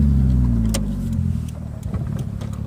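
A 1989 Toyota Mark 2 GT twin-turbo engine idling close by, a deep steady rumble that eases off slightly and settles into a throbbing idle, with a few faint clicks and no talking.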